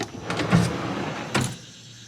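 A Dobinsons drawer system slides out of the cargo area of a fifth-generation Toyota 4Runner, giving a smooth mechanical glide with a soft thump at the start and another near the end, close and moderately loud with no talking.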